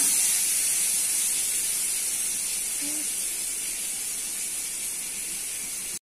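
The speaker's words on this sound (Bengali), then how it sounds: "কড়াই তেল দিয়ে দিচ্ছি পনির ভাজার জন্য" Continuous bright hissing of oil heating in a wok for frying paneer, steady and close throughout, cutting off abruptly at the end.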